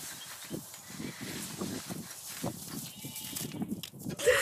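Several sheep bleat in a field, with repeated low wavering calls overlapping in a steady stream, moderately close, and no clear speech over them.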